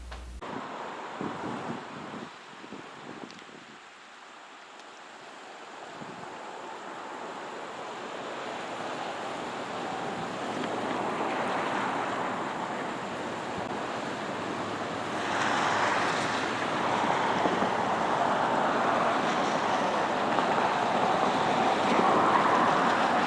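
River water moving where three rivers meet in Rome, Georgia, near a railroad trestle, a steady broadband wash of flowing water with wind buffeting the microphone, building louder and fuller after the first few seconds, no talk.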